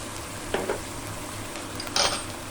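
Beef with onions and bulgogi sauce stir-frying in a pan: a low, steady sizzle broken by two brief scraping stirs, with no talking.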